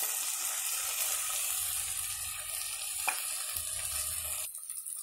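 White peas cooking in a pan for kurma, a steady, faint sizzle and bubbling with one small clink partway through, and no voices.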